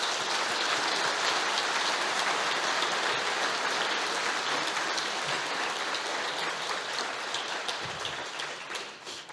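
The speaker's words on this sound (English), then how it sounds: "A big applause for our partners and supporters." Long, steady round of crowd applause honouring partners and supporters, a dense hiss of many hands clapping that holds even and then slowly tapers toward the end.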